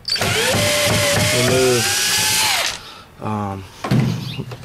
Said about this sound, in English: You're going to use your Phillips head drill